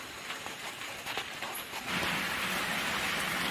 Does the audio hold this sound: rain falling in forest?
yes